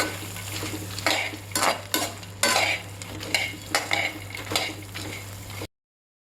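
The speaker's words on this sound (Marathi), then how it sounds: "मखाना टाकून आता अजून हे पूर्ण मिक्स करून घ्यायचं आहे" Makhana (fox nuts) are stirred in a pan with a spoon, giving a series of irregular scraping, rattling strokes, close and fairly loud, with no talking.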